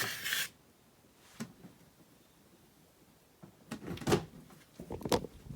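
Storage drawers from cabinets holding a Lego collection are shifted about, giving a few scattered scrapes and knocks, with one rubbing slide at the start and a quiet gap in the middle.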